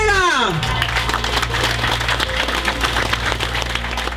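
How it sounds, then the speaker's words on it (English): A crowd applauds the drivers and teams at a MINI Challenge championship awards event at Brands Hatch, a continuous wash of clapping over a low hum in a large room, following a brief voice at the start. "give them a round of applause"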